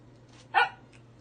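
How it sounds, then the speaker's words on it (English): A single short dog bark rings out clearly over a quiet background hum. "He's barking for the kale."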